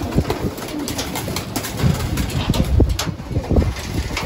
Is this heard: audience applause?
no